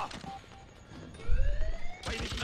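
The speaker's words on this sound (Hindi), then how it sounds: "अलार्म बज गया अलर्ट का।" An alert alarm in the Freedom Fighters video game wails in rising tones amid noisy combat sounds, with no one talking.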